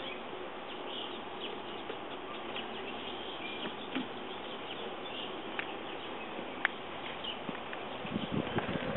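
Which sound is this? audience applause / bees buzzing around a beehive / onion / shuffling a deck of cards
bees buzzing around a beehive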